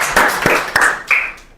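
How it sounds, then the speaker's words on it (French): A handful of loud, close claps from a small group, about four distinct hits spaced unevenly before fading out. "On applaudit pour lui, non?"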